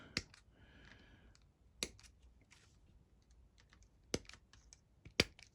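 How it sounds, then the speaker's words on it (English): Plastic skeleton cavalry and chariot crew miniatures from Wargames Atlantic are snipped off the sprue with clippers. Four sharp, isolated snips sound close and quiet, with faint small handling clicks between them. "I'm just going to snip off a couple of riders and a couple of chariot crew"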